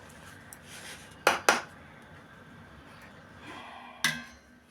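Boondi for laddu stirred in a metal vessel as part of a two-kilogram batch, giving a few crisp metallic clanks, two in quick succession and another a bit later, over a quiet background.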